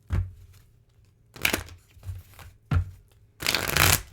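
A deck of cards shuffled in several quick riffles, each a crisp fluttering burst separated by short pauses, with a longer final riffle, close and clear with no talk.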